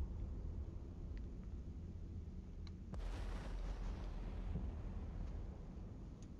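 Explosion blast around a pod in the space game Eve Online, a low rumbling drone that erupts into a broad roaring burst midway and then rumbles on steadily, fairly faint and without voices.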